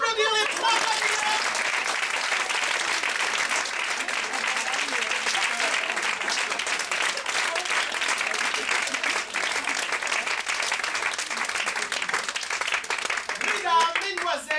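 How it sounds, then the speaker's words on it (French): A studio audience at a French improvisation comedy show gives sustained, steady applause and clapping for three contestants, lasting around fourteen seconds, with a few voices calling out amid the clapping. "On peut applaudir les 3 candidats."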